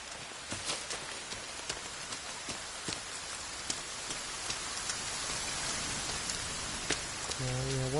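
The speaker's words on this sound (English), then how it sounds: "Yeah, once it rains," Steady rain patters throughout in the survival game The Forest, a dense constant hiss with scattered sharper drop ticks, alone with no voices.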